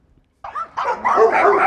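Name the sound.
recording of a group of dogs barking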